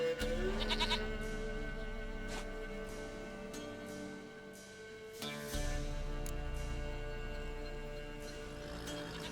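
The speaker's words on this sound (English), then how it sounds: "Goat of mine, dearest, sweetest goat." A goat in The Witcher video game bleats, a few wavering cries near the start and again midway, over a soft ambient game soundscape with no talk.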